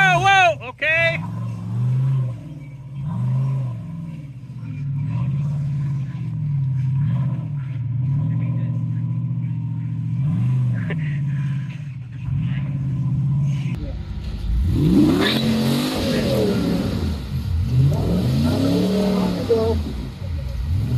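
A Jeep engine drives an off-road trail, its tone rising and falling as it revs and strains over obstacles, loud and close, growing rougher and busier in the last few seconds.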